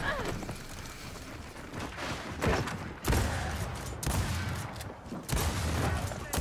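Gunfire in the Gears of War 4 multiplayer video game: repeated bursts of rapid shots and impacts, with a heavier blast around the middle, under an ongoing player voice.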